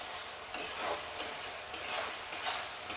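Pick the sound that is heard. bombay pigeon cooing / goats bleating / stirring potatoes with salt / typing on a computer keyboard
stirring potatoes with salt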